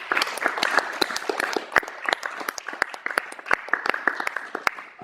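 An audience in a Zürich hall applauds, a sustained round of clapping with distinct sharp individual claps standing out from the steady patter.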